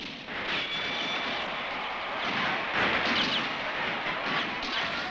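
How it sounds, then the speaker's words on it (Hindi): Firecrackers burst in a dense, continuous crackling barrage during a match, loud and unbroken for several seconds with no talk over it. "अचानक पटाखों की आवाज से मैच बीच में ही रुक गया है।"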